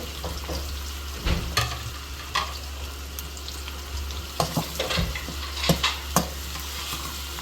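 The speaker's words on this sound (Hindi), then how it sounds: "अच्छी तरह इसको मिक्स करेंगे ऑयल में।" Onions and tinda fry in hot oil with cumin, a steady close sizzle broken by scraping stirs and clinks of a spoon against the pan, with no talking.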